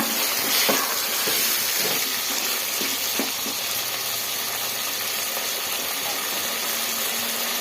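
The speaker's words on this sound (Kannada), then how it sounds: "ಎಣ್ಣೆಯಲ್ಲೇ ಒಂದು 5 ನಿಮಿಷ ಚೆನ್ನಾಗಿ ಫ್ರೈ ಮಾಡ್ಕೊಂಬಿಡೋಣ." Chicken pieces sizzle steadily in hot oil in a pan, a dense, constant frying hiss with faint stirring clicks, close and loud throughout with no talking.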